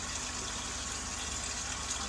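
Air pumped into a koi pond Easypod filter, a steady faint bubbling, gushing rush of water that continues evenly without pause.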